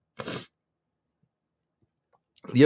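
A single sharp sneeze from a person bursts out near the start, followed by silence and then a brief breath or start of a voice at the very end.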